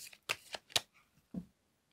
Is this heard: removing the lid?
no